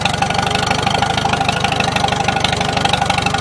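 A 1953 Farmall Super H tractor engine runs with the choke pulled, a loud, close, rapid knocking chug that stays even throughout, with no voices.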